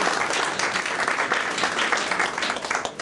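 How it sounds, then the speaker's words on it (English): Steady applause from a crowd, a dense continuous patter of many hands clapping at full volume for about three seconds, with no voices standing out. "And if you agree with me, then please clap for Lord Ahmed."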